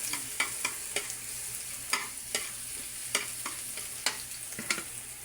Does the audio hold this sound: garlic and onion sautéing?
yes